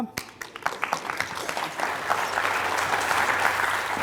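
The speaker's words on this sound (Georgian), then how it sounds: "აპლოდისმენტები თენგოს." Studio audience at a televised Georgian literature quiz show breaks into applause for a contestant, a dense, steady roar of many hands clapping that starts in scattered claps and swells to full strength.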